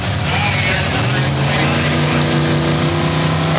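Drag race cars at the 1984 ET Superstakes, a red Camaro in the right lane against Wayne Good's Cheap Thrills car, roar loudly with a steady engine drone throughout, under a commentator's voice.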